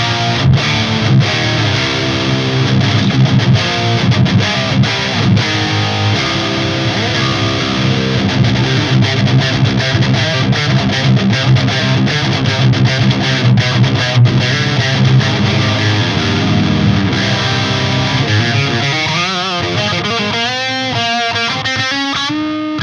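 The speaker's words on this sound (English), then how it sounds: "that's just the amp's distortion channel" A Crankenstein Plus amp's distortion channel, gain set near ten o'clock and played through a Mesa 4x12 cabinet, drives a thick, continuous guitar riff for over twenty seconds before giving way to ringing, sustained chords at the end.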